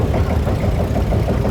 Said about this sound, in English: the unmistakable sound of the big single-cylinder engine of a Field Marshall